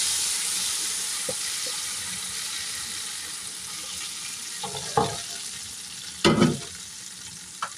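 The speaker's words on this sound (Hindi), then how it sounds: "अभी मैं इसको लगाती हूँ तड़का।" Spices temper in hot oil for kadhi pakora, sizzling and crackling with a steady hiss, punctuated by a few louder bursts of spattering near the end, no voices.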